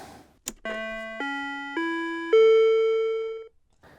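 A Talk 'N Learn Alphabet electronic toy, slightly off-pitch, plays four sustained electronic tones in quick succession, each stepping up in pitch, after a sharp click, then falls silent.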